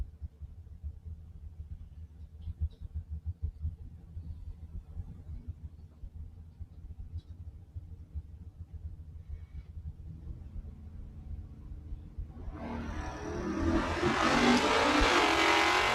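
A 1972 Plymouth Duster and a 1969 Ford Mustang idle with a low, distant rumble at the drag strip line, then launch into a sudden loud, roaring surge of engine noise near the end.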